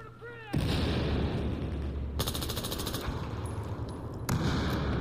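Rapid, loud bursts of PDW gunfire from Battlefield 4 pour out almost without pause, dense automatic fire close up with short gaps between strings of shots.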